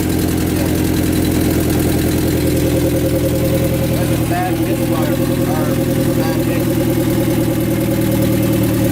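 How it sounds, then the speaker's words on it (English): A turbocharged Honda Civic engine idling rough and shaking, a loud, close, steady rumbling drone with a pulsing low throb throughout, as someone talks briefly over it. "That engine is shaking."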